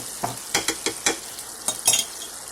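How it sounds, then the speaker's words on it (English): Ghee (clarified butter) sizzles in a pan as a seafood sauce is started, a fairly close hiss punctuated by a string of sharp scraping and tapping strokes spaced unevenly. "I'm adding my ghee, people"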